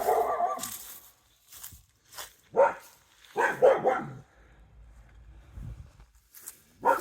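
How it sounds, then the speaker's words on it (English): Dog barking beside a property, heard as a series of sharp, moderately close barks in irregular bursts with quiet gaps between them and no talk. "You do have your dog barking in the side"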